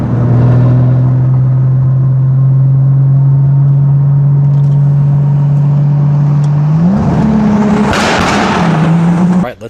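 Engine of a 2002 Lexus IS 300 fitted with a 1000-horsepower 2JZ swap, droning loud and steady at high revs while driving, then climbing sharply as it accelerates and shifts, with a brief roaring burst near the end.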